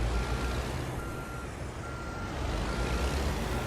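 Reversing beeps from a truck in American Truck Simulator, set in Oregon near Eugene, repeat steadily over a loud, continuous engine rumble and road noise, with no talking.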